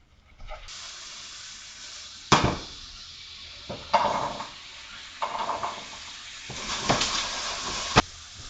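Vegetables fry in butter in a pot, a steady hiss broken by several louder sizzling bursts as pieces are moved, with faint background talk.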